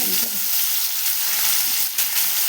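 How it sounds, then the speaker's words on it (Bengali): Giant river prawns sizzle steadily in hot oil in a pan, a dense continuous frying hiss with faint crackles throughout, close and fairly loud, no voices. "মাছগুলো আমি একটু লাল লাল করে ভেজে নেব"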